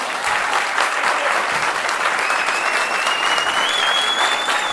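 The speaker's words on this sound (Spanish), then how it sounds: "Aplausos." A stand-up comedy audience applauds steadily, a dense wash of clapping that holds its level throughout with no voices standing out.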